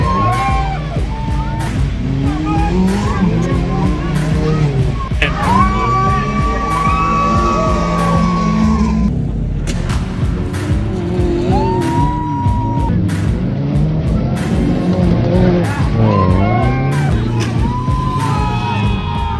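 Cars racing and crashing at a Chevyland demolition-style event, with a loud, continuous mix of engine noise, crowd cheering, whoops and yells running throughout.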